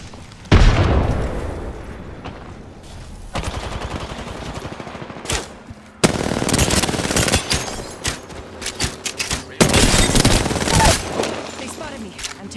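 Heavy bursts of gunfire and booming impacts from the shooter game Apex Legends, several loud close volleys separated by short pauses, with voices talking between them.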